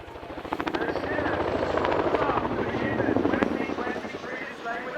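A Royal Air Force Chinook HC6A twin-rotor helicopter from the display team thunders at an air show at Cosford, its rotor thump and turbine roar steady and fairly close as a voice talks over it.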